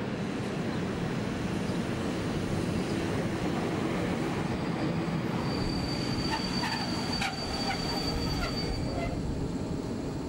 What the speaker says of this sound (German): Auf dem Weg nach Süden hat eine polnische EU-07 den Bahnhof erreicht.